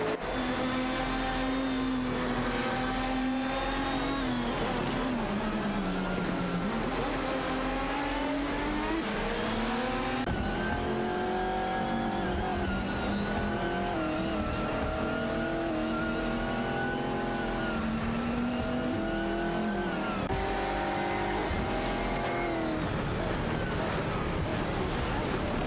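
Race cars in a racing video game battle for position, engines droning and revving loudly with rising and falling pitch as gears shift, a dense continuous roar from several cars with no voices.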